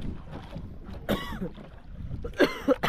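A couple of sharp coughs sound close by, the first around the middle and a stronger burst near the end, over low background rumble.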